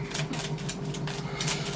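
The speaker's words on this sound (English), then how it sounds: "Oops, give it a good shuffle." Playing cards shuffled for the Pathfinder Adventure Card Game, a run of quick riffling, rustling bursts at close range with no talk over it.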